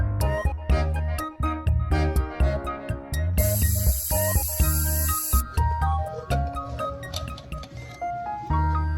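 A pressure cooker on a gas stove, cooking chana dal with mutton, lets out a steady two-second burst of hissing steam partway through, half buried under continuous background music.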